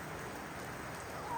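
Rain falling steadily as a soft, even hiss of drops, faint and continuous with no voices.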